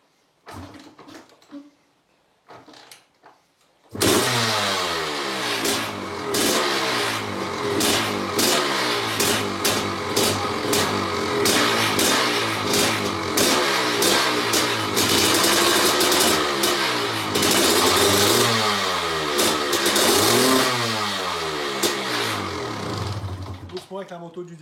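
Motorcycle engine at a race event in Saint Léger de Balson: brief voices and bumps in near-quiet, then the engine bursts into loud, close running with repeated rising and falling revs for the rest of the stretch.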